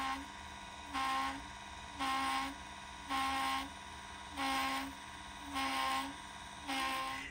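A Celestron CGX telescope mount's motor and worm gear whine in a steady repeating cycle, about one buzzing pulse per second over a constant motor hum, close and moderately loud.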